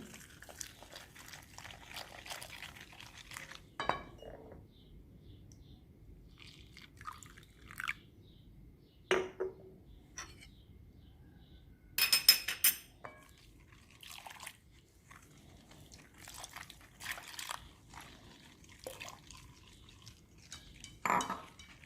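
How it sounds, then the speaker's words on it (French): Crêpe batter for Moroccan baghrir being whisked in a bowl after water is added, with scattered clinks of a utensil against the bowl, pouring and dripping, and bursts of scraping mixing among quiet gaps. "Je vais rajouter de l'eau. Et je vais commencer à mélanger."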